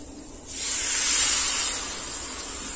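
Water hits a hot pan of potato, soybean and green banana curry and bursts into a loud, close hiss about half a second in, holding strong before easing into a steady sizzle.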